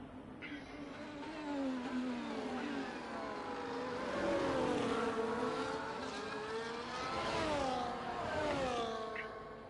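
A race car engine on a hot lap in a sim racing game, Qatar circuit, revving up and down through gear changes, steady and moderately loud, with no talk over it.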